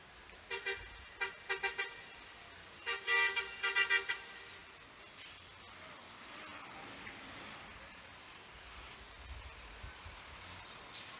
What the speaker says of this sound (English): As I'm watching cars go by.